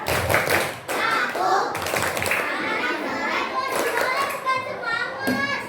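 A group of children chant together in a lively school setting, their voices mixed with rhythmic hand clapping and taps throughout, busy and close.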